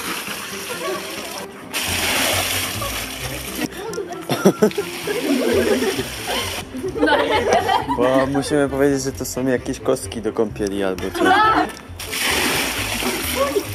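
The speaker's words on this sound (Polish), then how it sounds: "Dawajcie, wylejemy to i wlejemy mu lodowatą." Water poured from bowls splashes and spills repeatedly at an outdoor camp, close and fairly loud, with people talking and laughing over the sloshing throughout.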